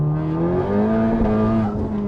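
A 300 kW front-wheel-drive Type R car engine revs hard to the rev limiter, steadily climbing in pitch and holding near the top of its range without a break, loud and close.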